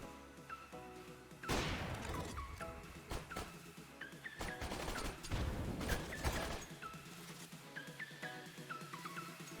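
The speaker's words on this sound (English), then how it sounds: "He'll tag Magisk through the wall with an op and finish him with a Glock" Gunfire and impacts from a Counter-Strike: Global Offensive match on the Train map, with loud bursts of shots in clusters over a steady game background, interspersed with short electronic tones, and no talking.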